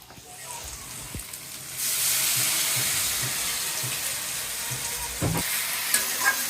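Meat frying in a pan on a home stove sets off a loud, steady sizzle that swells abruptly and holds, with occasional stirring clatters near the end.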